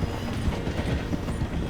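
In Red Dead Redemption 2, a steam-era train slows through a station, a loud, close rolling rumble of heavy wheels on track with uneven clattering thumps throughout.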